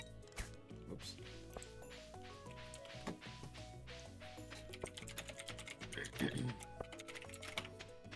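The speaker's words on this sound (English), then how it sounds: "So we're just typing." Busy clicking keystrokes on a computer keyboard, irregular and close, mixed with game music tones and chatter from friends playing Stardew Valley together.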